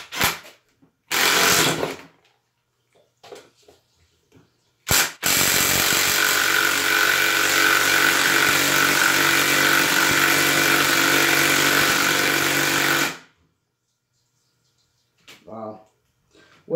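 A cordless drill on a high setting drives a 2.5 inch Phillips fine-thread screw in one loud continuous whir lasting several seconds. Shorter bursts and brief handling noises come before it, and it stops abruptly.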